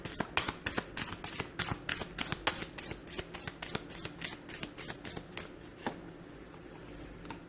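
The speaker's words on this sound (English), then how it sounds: "shall we give the angel cards a shuffle" A deck of angel cards is shuffled close up in a rapid run of crisp riffling flicks. Their rhythm slows and trails off toward the end, with no talking.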